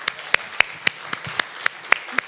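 Scattered clapping at a panel event, individual claps landing at a steady rhythm, fairly close and distinct, with no voices over it.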